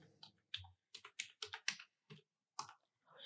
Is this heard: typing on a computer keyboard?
yes